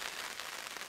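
Steady rain falls on a riverside bushcraft camp, a dense, even patter spread close all around with no voices.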